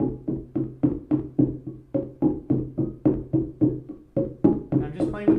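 A Moog DFAM analog drum synthesizer plays a steady, fast sequence of punchy, decaying percussive hits with a repeating pattern. It is loud and close, with one brighter, noisier hit near the end.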